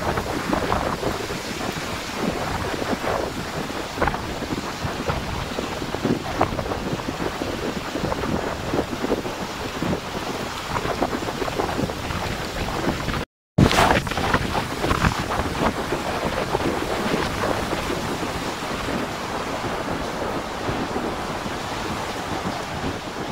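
Strong wind roars continuously with heavy gusts and rushing, surf-like noise buffeting the microphone, strong enough to topple a tree and damage a hut, loud and unbroken apart from one brief dropout.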